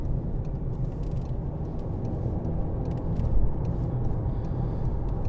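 A 2017 Volkswagen Golf 2.0 TDI BlueMotion Tech GT pulls round a bend, its diesel rumble and road noise heard from inside the cabin as a steady low drone that swells briefly midway.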